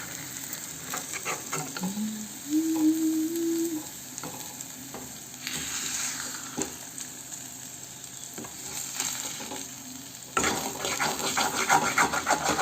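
Eggs frying in oil with chili powder give a steady close sizzle and crackle, with occasional scraping stirs and a brief whistling tone early on, growing louder and denser near the end.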